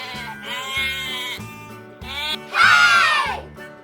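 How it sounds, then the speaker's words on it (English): A sheep bleats in loud, quavering calls, several drawn-out cries in a row ending in a long wavering bleat, heard alone and up close. "Sheep."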